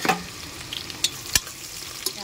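Two large sliced onions hiss and sizzle in hot oil with whole spices in a pan, a steady frying crackle broken by a few sharp stirring clinks, close by and with no voices.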